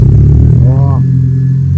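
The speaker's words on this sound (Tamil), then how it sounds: "டர்போ சவுண்ட் ஆகுதுங்க." Vintage motorcycle engine running at close range, a smooth low drone with a brief rising rev, while someone talks over it.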